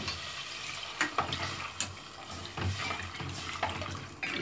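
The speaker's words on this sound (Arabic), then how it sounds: "وبعد كده هنسقيها بميه، ممكن شوربه لو عندك" Water poured over browned pasta in a cooking pot, a steady close splashing and rushing pour lasting several seconds with small bursts of bubbling.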